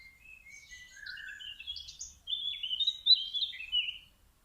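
Small birds sing nearby: a lively series of high chirps, trills and warbling phrases that gets busier and louder midway, with no other sounds around it.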